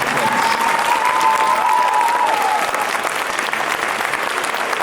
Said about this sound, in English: let's give a big round of applause to all 4 of our participants